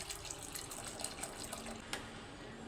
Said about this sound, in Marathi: आणखीन ह्याच्यात अर्धा लिटर पाणी ॲड करते